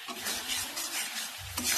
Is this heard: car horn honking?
no